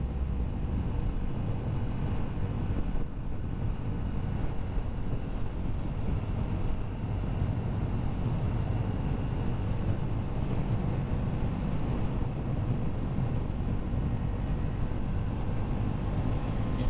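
A Triumph Scrambler 400 motorcycle rides in 5th gear along a curvy road, giving a steady, even engine drone mixed with heavy wind rush throughout.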